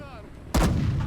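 A single loud anti-tank gun blast from the Gates of Hell battlefield game bursts in suddenly, with a sharp crack and a heavy rolling boom that lingers, following a quieter stretch of background ambience.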